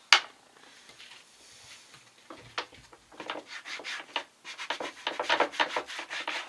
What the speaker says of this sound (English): So we're going to sand down the handles.